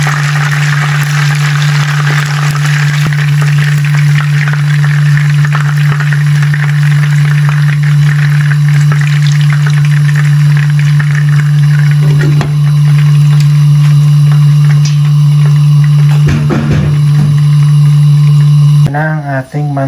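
Fish fillet frying in hot cooking oil, a steady loud sizzle and crackle with a strong low hum underneath throughout, brief clatters near the end.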